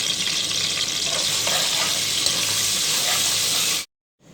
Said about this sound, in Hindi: अब हमारा तेल थोड़ा सा गर्म होने लगा है तो हम इसके अंदर अदरक लहसुन का पेस्ट शामिल कर देंगे